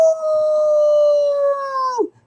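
A single long wolf howl, loud and close, holding a steady pitch before sliding down and breaking off sharply at the end, alone against silence.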